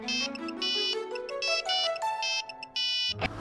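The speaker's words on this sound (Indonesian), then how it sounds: "Itu handphonenya bunyi." A cheap mobile phone plays its ringtone, a bright electronic melody of repeating beeping bursts with short gaps between phrases, close and clear, ending in a brief rustle.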